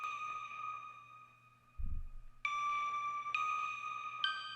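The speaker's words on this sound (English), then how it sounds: "So I picked out another bell type sound to go with this." A bell-like synthesizer sound rings out a few sustained, chiming notes that strike and decay slowly, fairly quiet and alone with a brief low thump partway through.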